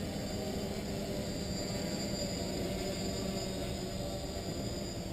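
A Locust MF-YX 450 quadcopter on 4S power with RCTimer motors hovers at under half throttle, making a constant, even motor drone with no breaks.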